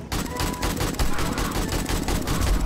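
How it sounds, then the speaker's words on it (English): Rapid automatic gunfire in the video game 7 Days to Die, a loud, dense stream of shots with no gaps, sustained throughout. "Are you shooting? Yep."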